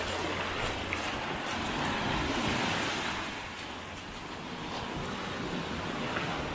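Sea water surges and washes around a person wading through the rising tide at Playa del Inglés, Gran Canaria, a steady broadband rush of surf with wind buffeting the microphone.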